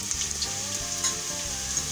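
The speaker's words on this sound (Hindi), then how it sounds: "बस प्याज हमें इतनी ही सौते करनी है" Onions sizzle and crackle steadily in hot oil in a pressure cooker for beef nihari, a continuous close frying sound with a faint tonal hum underneath and no talking.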